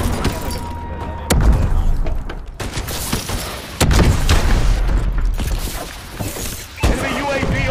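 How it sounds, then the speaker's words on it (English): Enemy missile strikes in a multiplayer shooter, a chaotic run of loud booms, thuds and shattering bursts landing in quick succession, with a voice talking over the barrage. "Enemy missile strikes."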